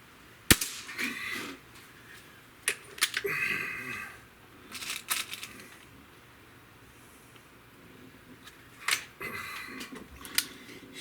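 Several sharp shots from a Weihrauch HW98 air rifle fired at a target for grouping, each a sudden crack with a brief rattle, spaced irregularly across the stretch with quiet handling sounds between.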